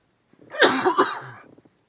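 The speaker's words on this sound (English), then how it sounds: "I was sneezing and coughing at the same time" A single close, abrupt burst of a sneeze and cough at once, lasting about a second, then silence.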